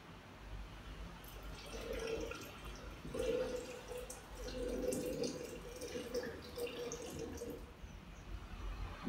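Hot water trickles and pours softly into a French press over ground coffee, a faint, steady liquid stream with small drips, gently rising and falling over several seconds.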